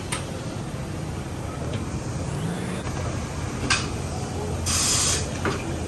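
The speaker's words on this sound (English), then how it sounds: "Guys are airing up the tires right now." An air hose blows short bursts of air while inflating tires on a GMC Denali on 26-inch Corleone Forged wheels, in a noisy shop with a steady background rumble and a louder sustained hiss near the end.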